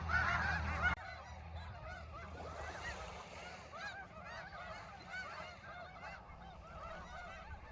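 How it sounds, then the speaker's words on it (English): A large flock of snow geese from the Wrangel Island breeding population, wintering at Iona, honking continuously in a dense, overlapping chorus at moderate distance, with a brief louder burst of nearby noise at the start. "These snow geese we are seeing here are from a breeding population way up on Wrangel Island"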